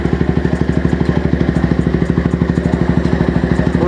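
A 2003 Honda Tiger 2000 custom scrambler motorcycle engine idling steadily up close, with a fast, even pulsing thump throughout and no voices.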